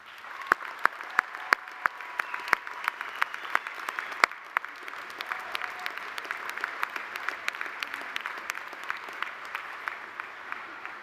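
Sustained applause from an audience at a 2017 Robert Morris University undergraduate commencement ceremony, many hands clapping steadily in a large hall with sharp individual claps standing out, moderately loud and even throughout.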